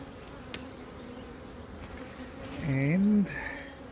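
Bees buzz faintly around an exposed beehive during a hive relocation, a low background drone with a louder, rising and falling tone that swells near the end.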